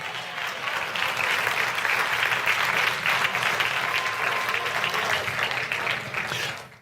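A church congregation claps in praise during a Spanish-language sermon, a dense, sustained wash of applause that holds steady and then fades out.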